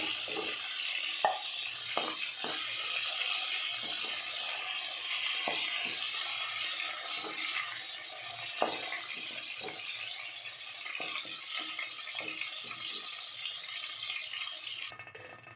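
Ridge gourd frying in oil gives a soft, steady hiss, with occasional light clicks from a stirring spoon against the pan.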